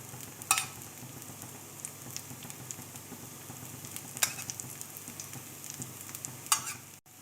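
Dosa batter sizzles steadily in oil on a hot pan, a soft, continuous frying hiss with faint crackles and a few brief clicks, close and alone.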